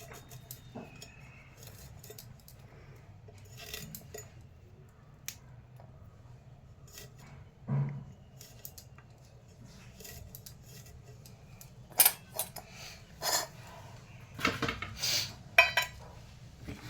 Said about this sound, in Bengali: এবার ছোট ছোট করে ফুলকপি কেটে নেবেন।